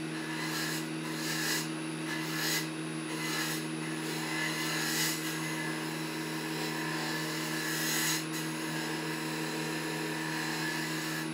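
A woodturning gouge cuts a small wooden bud vase spinning on a lathe: a steady motor hum runs throughout while soft rasping scrapes swell and fade as the cut rolls over, with no one speaking.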